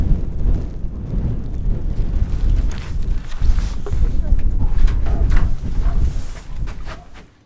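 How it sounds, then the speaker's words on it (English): Cold, strong wind buffeting the microphone at a campsite in the northernmost town in the world, a loud continuous rumble with gusty bursts throughout. "it's windy and cold"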